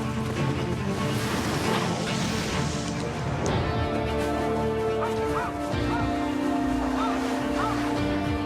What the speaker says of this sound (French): Des centaines de chiens de traîneau font irruption sur le champ de bataille de la Première Guerre mondiale.